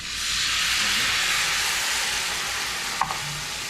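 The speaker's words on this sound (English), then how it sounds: "putting in roughly 3 ounces of white wine" Three ounces of white wine poured into a hot pan with prawns, giving a loud, steady frying hiss throughout with a brief clink near the end.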